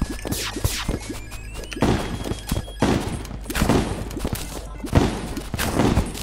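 Snowman gangsters open fire in the Terraria game, loud bursts of rapid gunfire and sharp impact cracks repeating in clusters, with brief pauses between volleys.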